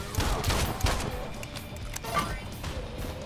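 Video game gunfire crackles in quick, dense bursts at the start, then thins into scattered shots and impacts, loud and close throughout.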